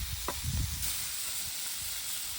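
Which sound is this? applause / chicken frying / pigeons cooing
chicken frying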